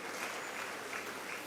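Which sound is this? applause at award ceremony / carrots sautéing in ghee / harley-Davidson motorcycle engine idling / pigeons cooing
applause at award ceremony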